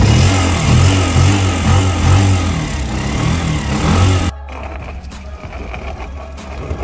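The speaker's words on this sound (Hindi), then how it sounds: "मैं बाइक को स्टार्ट कर लेता हूँ" A motorbike engine runs with a loud, steady, throbbing chug for about four seconds, then drops suddenly to a much quieter, rougher rumble, with no speech over it.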